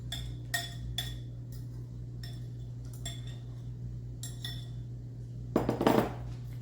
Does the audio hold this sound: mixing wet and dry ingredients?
yes